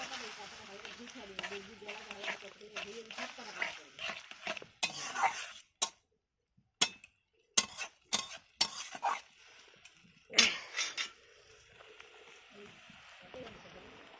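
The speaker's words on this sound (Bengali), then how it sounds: "ভালো করে নাড়াচাড়া করে নিচ্ছি।" Papad being stirred in a pan with sugar while cooking a sweet-sour-spicy papad dish: soft scraping and clinking of a spoon against the pan in scattered bursts, with someone talking over it.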